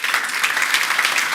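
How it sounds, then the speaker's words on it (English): Warm audience applause at a tech meetup on last-mile parcel delivery, a dense and steady wash of many hands clapping at close range that holds evenly throughout with no talk over it. "Please, warm applause for Brody."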